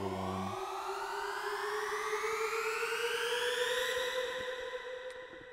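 A sustained synth sweep built in NI Massive as a build-up for songs climbs steadily in pitch with a rich, buzzy stack of harmonics, loud and unbroken for about five seconds before easing at the end.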